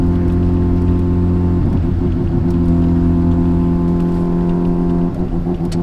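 A Mazda RX-7 with an RE Amemiya rotary engine drives along, its steady loud hum buzzing with strong low harmonics, shifting pitch briefly twice as the revs change; no talking.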